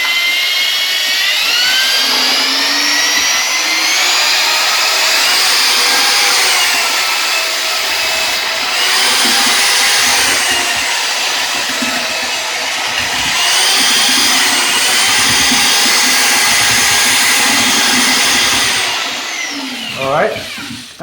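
Power mixer churning tile grout in a bucket, a loud steady whine with slight pitch shifts running continuously for about twenty seconds, then winding down at the end.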